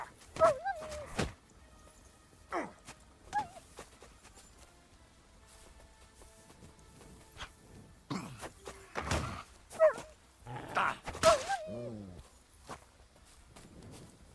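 Wolves in a medieval video game growl and whimper in short bursts scattered among footsteps and thuds, with long quiet stretches between the outbursts.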